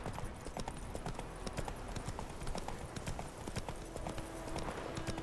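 Horse hooves clip-clop at a steady trotting rhythm in The Witcher video game, close and continuous, with a low rumble of movement beneath and faint voices in the background.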